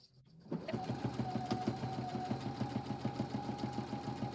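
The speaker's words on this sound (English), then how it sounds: "let's go ahead and start sewing" A sewing machine starts up and runs steadily, stitching a quilted pillow, its rapid even mechanical chatter holding a constant hum close by.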